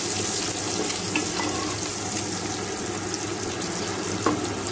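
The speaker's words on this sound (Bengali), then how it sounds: "ডিমগুলো আমি বেশি একটা ভাজবো না, আমি অল্প করেই ভাজবো, জাস্ট একটু লাল হলেই তুলে নেব।" A steady, close hiss of eggs frying lightly in a pan for egg pulao, fairly even throughout with a few faint ticks and no voices.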